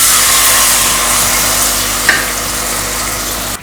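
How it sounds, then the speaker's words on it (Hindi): Garlic and ginger frying in a pan as sauce goes in for sweet and sour chicken, a loud continuous sizzle close up with a single soft knock of a spoon partway through. "लहसुन अदरक हल्का सा फ्राई हो चुका है"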